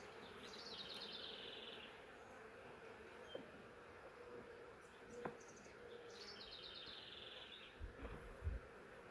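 A soft, steady buzzing of many honeybees around an open hive during a brood inspection hums throughout, with a few faint clicks and light handling thumps near the end.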